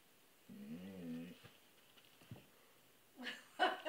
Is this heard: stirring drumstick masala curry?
no